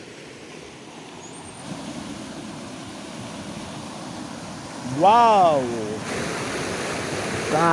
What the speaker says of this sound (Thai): ก็คือบรรยากาศทั้งหมดนะครับ ผมที่น้ำตกโตนตาเทือนะครับผม